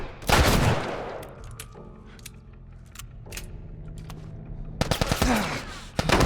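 Gunfire in The Last of Us video game: loud, rapid bursts of shots at the start and again near the end, with quieter scattered clicks and rattles between them.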